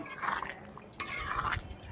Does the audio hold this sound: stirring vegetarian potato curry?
yes